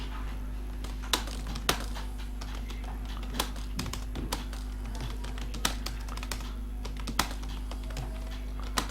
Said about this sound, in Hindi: किसी भी तरह की वर्डिंग इसमें बासानी टाइप होती है।